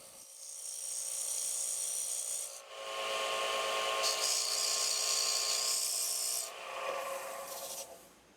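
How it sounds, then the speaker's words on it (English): An Easy Wood Tools detailer cuts a taper on a wooden tenon spinning on a lathe, a steady, loud scraping rasp that runs almost continuously with brief shifts in pitch as the cut changes. "We use the easy detailer to put a taper on the tenon to match the jaws on our chuck."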